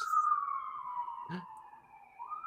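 A police siren wails steadily in the distance, its tone sliding slowly downward, with a brief thump partway through.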